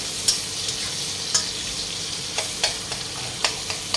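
Chopped onion fries in a pan, a constant close sizzle punctuated by several sharp scraping stirs at irregular intervals, with no voices.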